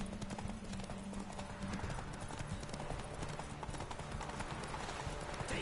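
Roach, a horse in the video game The Witcher 3, gallops in a steady, rapid run of hoofbeats throughout, loud and close, with a faint whinny and no talking.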